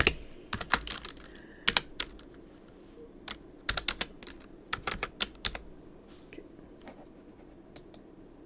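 Computer keyboard typed during a live tarot broadcast: bursts of sharp, irregular key clicks with short pauses, close and fairly quiet over a faint background hum.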